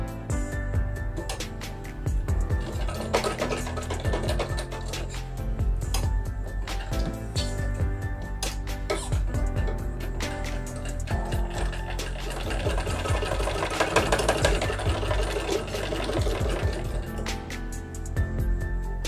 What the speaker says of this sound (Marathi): तर आता आपण पट्टीला शिलाई देऊन घेऊयात